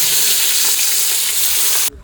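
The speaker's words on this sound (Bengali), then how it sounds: "ওই মাছ ভাজার তেলে বাকি মাছগুলো ভেজে নেবো।" Hilsa fish fries in hot oil with a loud, dense, bright sizzle that carries steadily before cutting off abruptly near the end.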